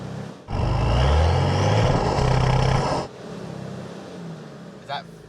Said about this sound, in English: What about if I just rev it out flat?